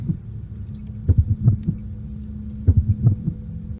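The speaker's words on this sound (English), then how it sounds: "We can even hear his heart beating in Pizzeria Simulator." Springtrap's heartbeat in the FNaF game Pizzeria Simulator thumps low and muffled in paired beats, two clusters of throbbing pulses over a steady droning hum.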